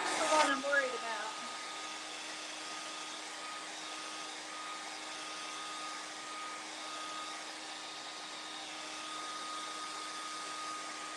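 A hair dryer blows steadily on paint over the bottom part of a Christmas sign, an even, moderate airy whoosh held throughout after a brief clatter at the start.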